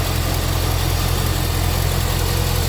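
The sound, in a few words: car engine idling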